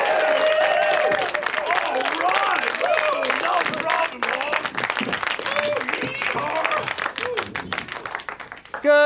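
Studio audience applause and cheering for a racehorse brought on a TV show, a steady crowd wash beneath someone talking over it throughout.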